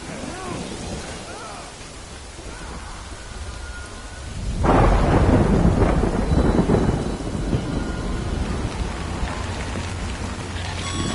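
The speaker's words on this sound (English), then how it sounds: "Good thing it was raining." Rain and thunder from the video game Death Stranding: steady rain hiss, then a loud thunderclap about four seconds in that rolls into heavy, dense downpour and continuing rumble.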